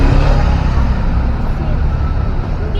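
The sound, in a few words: road traffic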